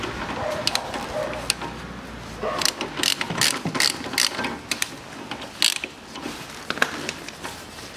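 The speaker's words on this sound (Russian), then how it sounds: "И теперь мы раскручиваем вот эти два крепления." Ratchet wrench loosening muffler mounting bolts on a CFMOTO CF500A ATV, with close, rapid metallic clicking in short bursts of repeated strokes.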